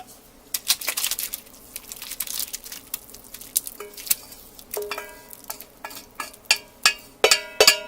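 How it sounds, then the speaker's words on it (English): Dry lentils are poured into a pot of soup with potatoes, making a rattling, crinkly patter that builds into a series of sharp clattering bursts near the end. "And I'm going to add the lentils."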